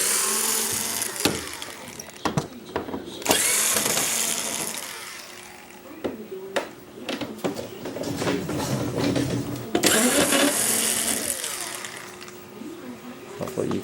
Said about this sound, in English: we'll start by removing the screws that hold the optical block cover